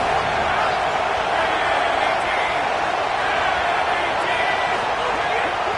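A home crowd at an American football game roars in a loud, sustained wash of noise while the defense tries to get off the field on third down, and an announcer talks over it.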